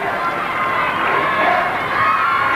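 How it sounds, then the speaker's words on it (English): A tennis crowd cheers at the 1986 Davis Cup final between Pat Cash and Mikael Pernfors, a dense, loud roar of applause and shouting that holds steady throughout. "Crowd is cheering Sweden now."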